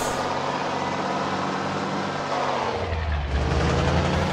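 A heavy truck engine in Grand Truck Simulator 2 drones loudly and continuously, its pitch shifting as it changes gear and pulls deeper toward the end.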